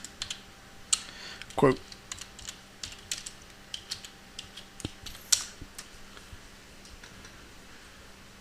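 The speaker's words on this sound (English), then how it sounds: "you just type in the chat room, bot AMZ." Computer keyboard keys clack in quiet, irregular bursts with a few sharper taps, close and faint, as a person types into a chat window; a voice speaks a single word briefly.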